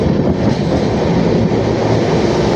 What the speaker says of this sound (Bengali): সব থেকে ইন্টারেস্টিং জায়গা এটা আমাদের জার্নির, যখন ফারাক্কাবাদের ওপর দিয়ে ট্রেনটা যায়।